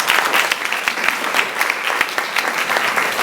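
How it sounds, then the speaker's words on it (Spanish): An audience at a writers' day event in a Bilbao cultural centre applauds a speaker, a steady, full round of clapping from many hands throughout, with no one talking over it. "Un aplauso, por favor."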